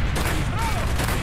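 Gunfire from a firefight in Call of Duty Black Ops, as a dense, loud barrage of shots running through the whole short moment with no clear gaps.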